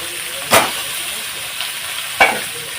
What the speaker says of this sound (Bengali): তেলের মধ্যে একটু ভাজবো